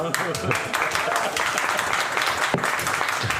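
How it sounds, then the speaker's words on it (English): Audience applause during a Daf Yomi Talmud class on Zevachim, steady clapping from a gathered group lasting a few seconds at moderate level, with a faint murmur of voices underneath. "This is the first time the Olam clapped on a Refuah Shleima."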